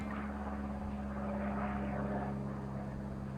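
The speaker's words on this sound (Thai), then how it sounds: "พี่น้องก็เห็นเครื่องบินบ่ค่ะ" An airplane flies overhead on a cold, cloudy day, a steady droning engine rumble that stays loud and even throughout with no speech.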